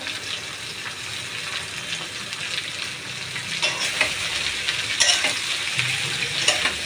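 Bitter gourd frying in hot oil with chopped onion and green chili, a steady close sizzle with scraping stirs that grow louder toward the end, no talking.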